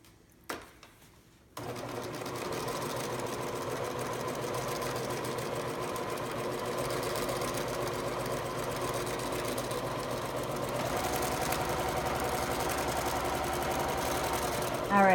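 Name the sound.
sewing machine stitching a photo pillow seam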